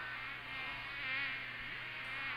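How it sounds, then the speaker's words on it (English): A thick swarm of flies buzzes continuously in a dense, steady drone that swells slightly at moments and never drops out, with no speech. "A thick black cloud of buzzing flies poured out the door"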